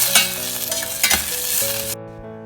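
Green chillies with turmeric and water cook in a pan for moru curry, giving a steady close sizzle broken by a few scraping stirs, over faint tonal background music.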